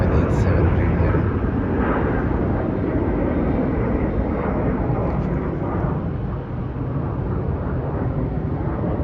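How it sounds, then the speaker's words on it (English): A Boeing 787 Dreamliner at Melbourne airport roars past as a loud, broad jet rumble that holds steady throughout, with a voice speaking over it. "that is a Boeing 787 Dreamliner"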